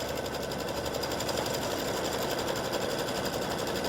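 An embroidery machine stitches a tack-down line on flip-flop fabric, a steady rapid mechanical whir with fast needle clatter, continuous and fairly quiet, with no talking.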